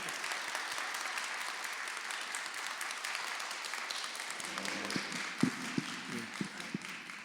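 Sustained applause from the audience at a book concert fills the room. Toward the end it thins out, leaving scattered individual claps and a few voices.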